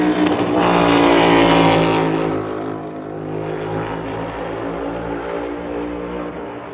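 A 750-horsepower NASCAR Cup race car engine roars loudly past at high revs during a Goodyear tire test, then drops to a lower droning pitch as it moves away down the track.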